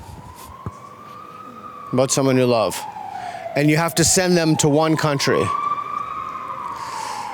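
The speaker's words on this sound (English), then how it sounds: "A lot of ambulances around here." Ambulance sirens wail steadily on a city street as they pass, their pitch slowly rising and falling, heard at a distance under people talking in the foreground.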